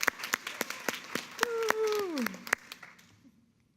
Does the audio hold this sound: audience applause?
yes